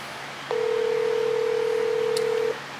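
A single steady telephone tone holds at a fixed pitch for about two seconds, starting and stopping cleanly as a call is placed. A faint short blip follows near the end, and there is no speech.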